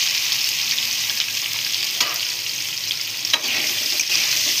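Onions fry in hot oil in a pan for crab masala, giving a loud, steady sizzle with a few sharper crackles as they are stirred, and no talk.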